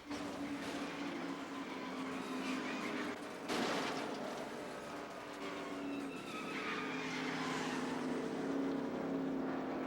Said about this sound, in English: car 95 spun out of control and started the worst crash in the race